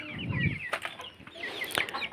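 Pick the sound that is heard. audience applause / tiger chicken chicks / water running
tiger chicken chicks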